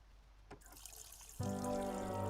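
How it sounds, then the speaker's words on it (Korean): Shower water running for a Sim in The Sims 4, starting as faint trickles and then switching abruptly to a steady, full spray that continues to the end. "샤워도 하고"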